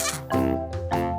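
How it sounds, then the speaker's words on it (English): A goat on a farm bleats in a quick run of three harmonic calls, close and fairly loud, with no talking. "Goat."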